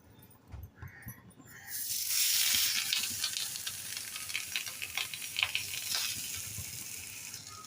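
Jowar flour thalipeeth sizzles and crackles on a hot pan, the frying hiss swelling after a few soft handling sounds and then holding steady, close and fairly quiet.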